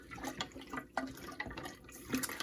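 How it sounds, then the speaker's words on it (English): Room-temperature water is poured into hot sweetened tea while making kombucha, a steady liquid splashing and trickling close by, with no talking. "And then after that, I add room temperature water."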